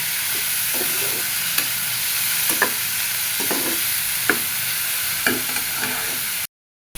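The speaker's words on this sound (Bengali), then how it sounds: "এটা হালকা করে একটু ভেজে নিয়ে তারপরে গুঁড়ো মাছ দিব" Potatoes fry with a steady close sizzle in a pan as a spoon stirs them in repeated short scraping strokes; no voices.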